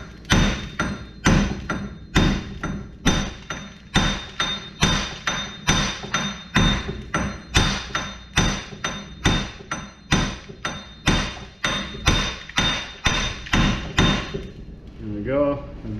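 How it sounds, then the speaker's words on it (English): A hammer strikes repeatedly on the front wheel bearing of a 2013 Kia Sorento. Each blow lands as a sharp metallic thud in a steady, rapid series, close and loud, before the strikes stop near the end. "So we'll give it a few whacks and see if we can't get it moving."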